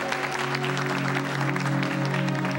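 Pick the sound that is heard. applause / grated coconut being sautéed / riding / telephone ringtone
applause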